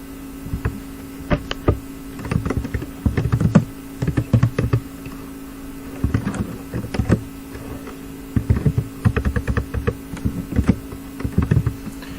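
Code typed on a computer keyboard: bursts of rapid close key clicks with short pauses between them, over a steady low electrical hum.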